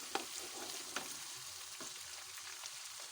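Ginger garlic paste sizzles softly in a pan while being stirred, with light crackling frying and occasional scrapes and taps of the spoon, faint and close, with no voices.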